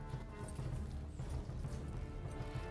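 A horse gallops in the medieval video game Kingdom Come: Deliverance, its hoofbeats a steady, quiet rhythmic clopping heard on their own.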